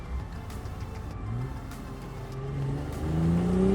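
A BMW car engine revs and climbs in pitch, a steady mechanical roar that builds louder toward the end.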